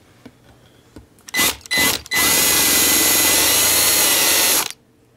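A power drill beveling the edge of an enlarged hole whirs steadily for a couple of seconds after two short bursts of spinning up, then stops abruptly; close and loud, no talking.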